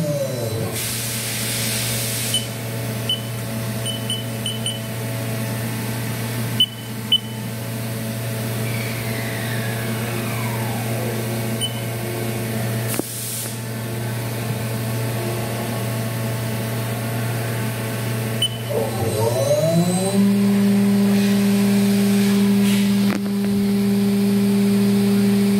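A Haas VF-6SS 4-axis CNC vertical mill spindle spun up to 12,000 RPM, giving a steady loud mechanical whine and hum with brief hisses, and a tone that climbs and settles higher near the end.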